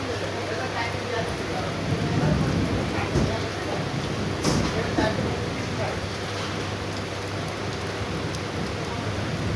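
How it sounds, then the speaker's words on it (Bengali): Heavy downpour in Kalyani Ghoshpara around half past four in the afternoon, a dense, continuous roar of rain with a few louder rumbles that fit distant thunder, and a voice talking over it. "মেঘ ডাকছে, গরম বৃষ্টি হচ্ছে, দারুণ বৃষ্টি হচ্ছে, অঝোর ধারা"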